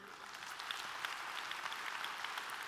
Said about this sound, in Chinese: 再给立威一个热烈掌声